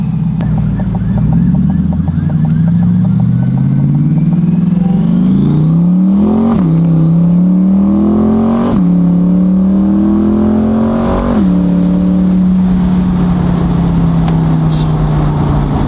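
A Corvette engine revs up repeatedly in rising sweeps on a test drive, each climb dropping sharply at a gear change, loud and close with a faint whine on top.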